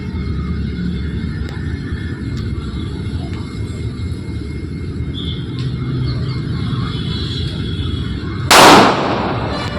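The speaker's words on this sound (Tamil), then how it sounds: "டமார் டமார் லட்சுமி வெடி" A Lakshmi firecracker bursts with one sharp loud bang near the end, following a long stretch of steady rumbling background noise with faint distant pops.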